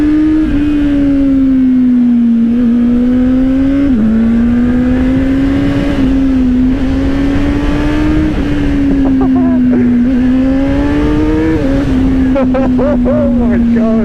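A 2025 Honda CBR600RR motorcycle engine runs loud and close, its high tone swinging up and down through repeated throttle blips and sharp revs, with a rider talking over it.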